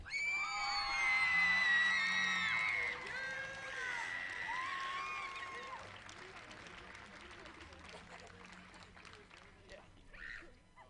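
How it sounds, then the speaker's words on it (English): Audience at a cosplay contest cheering and whooping, with high voices and screams loud at first and then fading into a softer murmur of crowd noise. "step forward and give these guys a round of applause"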